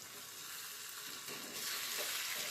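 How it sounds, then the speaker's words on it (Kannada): Onions frying in a pan for chicken dum biryani, a steady close sizzle that swells slightly toward the end, with no talk. "ಈಗ ಫ್ರೈಡ್ ಆನಿಯನ್ ಮಾಡ್ಕೋಬೇಕು."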